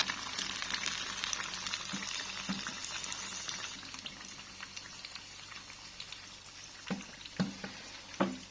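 Tofu fries in hot oil in a home kitchen, giving a steady close crackle and sizzle with a few sharper pops and spatters toward the end; no one speaks.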